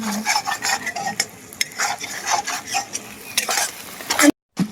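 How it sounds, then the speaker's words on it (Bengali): Eggs being stirred and fried in a pan for egg curry, with repeated scraping strokes of a utensil and a soft sizzle, close and moderately loud, ending in a brief silence. "তো আমি ডিমগুলা একটু কষাই নেবো।"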